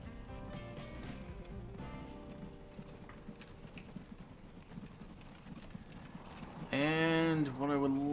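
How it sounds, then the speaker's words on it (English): Horse carts clip-clopping in the railway and road building game Transport Fever, a soft steady patter of hooves running under continuous game music, with a louder burst of sound near the end. "Let's buy another 2 horse carts for Godalming stone."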